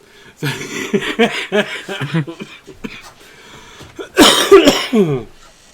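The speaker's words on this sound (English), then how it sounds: "you might hear me cough and blow my nose a few times during the stream" Someone coughs several times in a burst of short, harsh hacks close to the mic, then gives a louder, rougher cough near the end.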